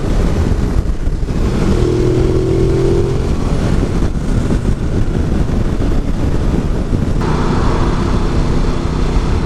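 A Ducati Multistrada 950 motorcycle accelerates hard on the road, its engine note buried in steady, loud rushing wind noise with a short rising tone early on.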